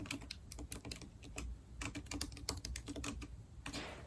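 Fast, irregular clicking of a computer keyboard at close range, keys tapped in quick bursts with short pauses between them, quiet overall with no talk.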